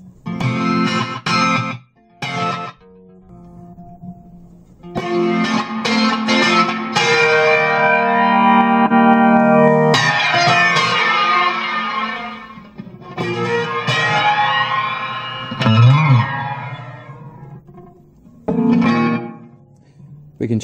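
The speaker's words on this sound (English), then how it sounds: "And in the delay and reverb section," A Fender Mustang II guitar amp plays guitar through its delay and reverb effects, with sustained chords and picked notes trailing off in echoing repeats and washy tails, in bursts separated by short pauses.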